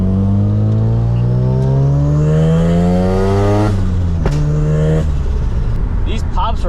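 A big-turbo Mazda FD RX-7 on a dirt fire road revs hard in a loud, rising engine note, then drops off. Sharp exhaust pops and crackles burst out as it lifts, close and aggressive.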